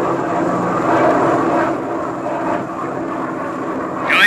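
A bomber's aircraft engine drones loud and steady as the plane dives and pulls up, the roar easing slightly midway and rising again with a sweeping whine near the end; no one speaks.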